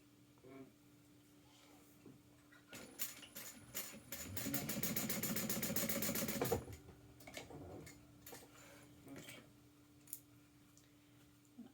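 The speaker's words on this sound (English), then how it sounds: "And then we're going to stitch that down." A sewing machine stitches down a folded fabric edge on a tag-along bag, a steady rapid clatter of stitching for about two seconds amid scattered clicks and handling sounds in a quiet room.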